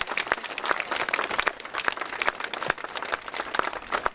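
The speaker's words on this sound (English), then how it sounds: "So I think a round of applause for them," A crowd gathered at the opening of a community walk gives a steady round of applause, dense clapping sustained throughout at fairly close range.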